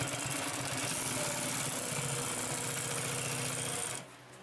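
A Consew P2339 double needle walking foot sewing machine runs steadily and close, its needles punching through thick layered plies in a fast, even mechanical chatter that stops abruptly near the end.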